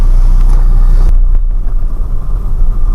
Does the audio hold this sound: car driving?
yes